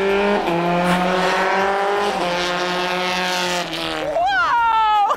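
F1 race cars speed around a racetrack, their high-pitched engines wailing continuously and shifting pitch as they pass, with a final sharp rising-then-falling scream as one car roars by close and loud.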